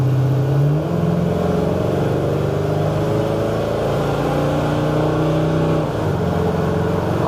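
A 1971 Chevrolet C-10 restomod pickup with a modern drivetrain accelerates strongly, its engine note climbing through the revs with brief dips at two gear changes, loud and steady throughout.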